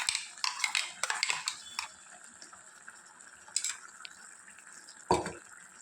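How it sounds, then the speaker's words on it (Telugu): A spoon scrapes and clinks against a pot as ground masala paste is stirred into mutton curry, a burst of rhythmic stirring strokes up close, then quieter scrapes and one louder knock near the end. "ఇది ముక్కలకు బాగా పట్టేటట్టు ఒకసారి కలుపుకుందాము."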